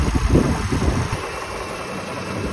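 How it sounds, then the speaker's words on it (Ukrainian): A 2011 Toyota Highlander engine idles smoothly and steadily, a low continuous hum with a slightly fuller rumble in the first second, then an even, quiet drone with no voices. "І так працює мотор."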